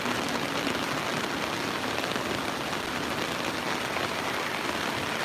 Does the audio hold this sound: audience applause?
no